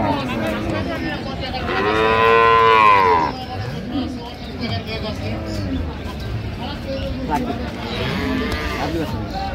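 A calf moos loudly at a busy livestock market where dairy cows and calves are traded, with long drawn-out lows rising above the crowd. Several people talk and bargain nearby.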